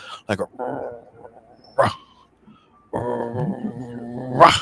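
A voice imitates a guttural growl heard near a dam, a low, rough, drawn-out vocal rumble following brief speech-like sounds, close and fairly loud.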